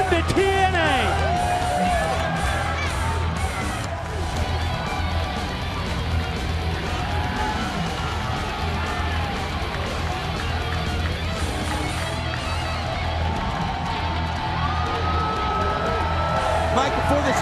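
Wrestling arena crowd cheering and whooping to welcome back Jerry Lynn at a TNA event in the Impact Zone, a loud sustained roar with claps, under commentators talking throughout.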